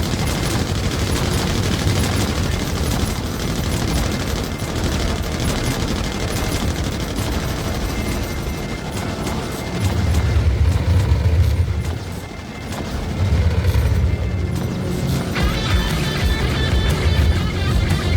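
The Redeemer gunship in the game Star Citizen fires its weapons in a dense, unbroken barrage of rapid shots and deep booming impacts, loud and sustained throughout with no pause.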